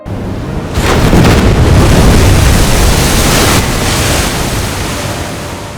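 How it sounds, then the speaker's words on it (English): An airliner crash-lands on a river: a sudden roaring rush of noise, like a massive splash and impact, bursts in and surges loudly before slowly easing off. "As the ground proximity warnings grew more insistent, the plane hit the Hudson."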